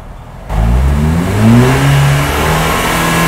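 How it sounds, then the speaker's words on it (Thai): A Mercedes-Benz A250 with a Brabus exhaust roars as the engine revs up, rising in pitch and then settling into a loud, rumbling idle close by. "ก็เป็นเสียงจากปลายท่อ Brabus นะคะ"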